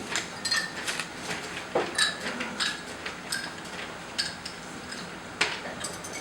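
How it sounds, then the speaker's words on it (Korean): Ice cubes scooped into a glass while a grapefruit soda cocktail is mixed at a SodaStream launch party, giving a run of light, close clinks and taps scattered irregularly across several seconds. "얼음을 담아주세요"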